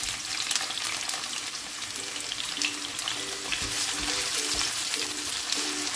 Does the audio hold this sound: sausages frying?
yes